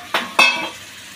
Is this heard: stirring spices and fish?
yes